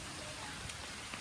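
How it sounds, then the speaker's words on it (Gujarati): Heavy monsoon rain in a rural Gujarati village, a brief dense wash of falling water with a few faint drips standing out. "વરસાદ ફૂલ આવી ગયો છે"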